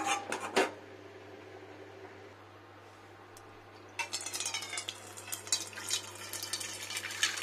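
Water poured or run from a tap into a pot for cooking kalai (biulir) dal, a soft splash at the start and a steadier trickling, splashing stream in the second half, close by and fairly quiet.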